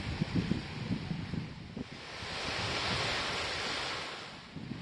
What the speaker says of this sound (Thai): นี่นะครับบรรยากาศหาดยายไอนะครับ